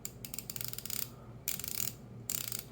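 Rapid fine clicking of a Mega Pro ratchet screwdriver's pawl in three separate runs with short silent gaps between them, close and fairly soft, with no voices.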